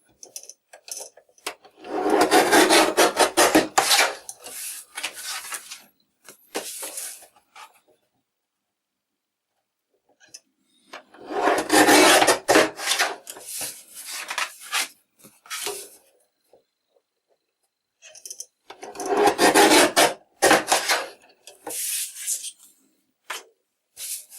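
Heavy 300 GSM watercolour cardstock being cut into strips, three separate bursts of crisp scraping and slicing, each lasting a few seconds with quiet gaps between, close and without talk.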